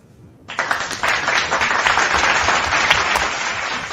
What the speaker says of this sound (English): Everyone give a big round of applause to Tanista for joining the chat today